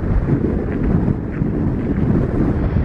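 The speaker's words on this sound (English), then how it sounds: "There are like 30 mile an hour winds right now." Strong desert wind of about 30 mph buffets the microphone with a constant low roar and rumble, loud and steady throughout with no voices.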